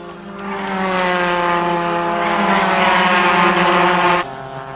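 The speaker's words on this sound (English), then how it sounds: "But the battle continued as Dirks retook third" Race cars roar past at the 1989 SCCA National Championship, a loud, sustained engine drone with rising and falling pitch as they pass close by, then an abrupt drop in level near the end.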